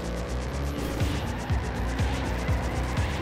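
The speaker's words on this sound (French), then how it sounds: "Et là par exemple le drift il est enclenché. J'ai pas besoin de freiner puisque je suis sur de la terre." Car engine droning steadily as it drifts across dirt in the racing video game Trackmania Turbo, with repeated short swooping tire or engine sweeps about every half second, loud and continuous with no talk.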